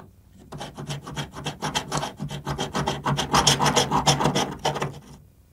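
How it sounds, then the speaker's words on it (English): A hand grout saw scrapes old grout out from between tiles in a house, producing about two dozen rhythmic rasping strokes, close and steady, with no talk. "Using the grout saw, you want to remove the old grout at least down an eighth of an inch."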